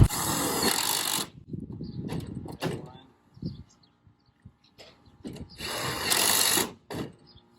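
A power drill drives screws into an aluminum patio cover: two loud, steady whirring runs at the start and near the end, separated by clanks, taps and handling noises of the metal panels.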